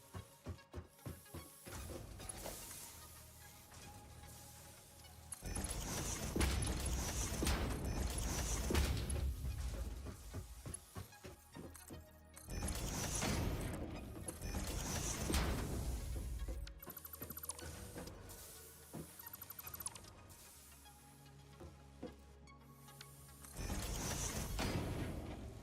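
Screw-making machines running in the factory game Satisfactory: steady mechanical whirring and clanking with periodic sliding, pressing cycles and low hum, moderately loud, with no talk.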